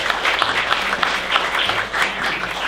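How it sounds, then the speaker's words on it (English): Applause from an audience at the close of a talk and Q&A, a loud, sustained wash of many hands clapping with slight swells in intensity throughout. "will you please join me in the round of applause"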